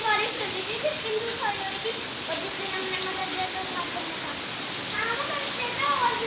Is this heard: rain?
yes